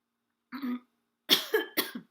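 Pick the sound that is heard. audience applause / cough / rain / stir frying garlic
cough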